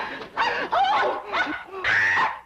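A dog barks and yelps loudly and close in a few quick bursts in a 1960s TV sitcom scene, with a person's startled exclamation mixed among the barks.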